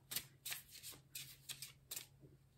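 Oracle cards being shuffled by hand, a quiet sequence of five or six soft riffling bursts at an even pace, close by, with a faint low hum behind and no voices.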